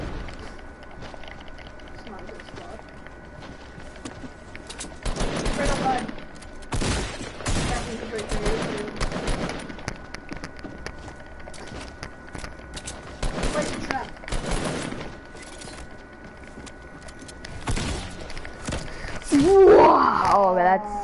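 Bursts of video-game gunfire crackle in clusters, including rapid automatic volleys and a louder blast, while players chat over the shooting.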